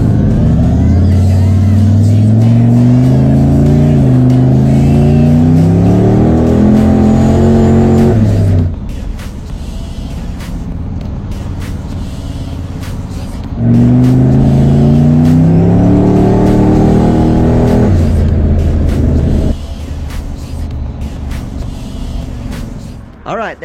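A car engine revs hard through rising gear pulls on a quick test-drive lap, two loud accelerating runs separated by a quieter coasting stretch, close to the car, with a voice talking over parts.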